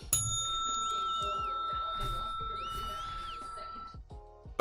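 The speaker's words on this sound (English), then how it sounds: "I still have the bell." A hand bell rung during a live NBA basketball stream of Lakers versus Nuggets, sounding as a sustained bright ringing tone over background commentary and crowd-like noise, fading out near the end.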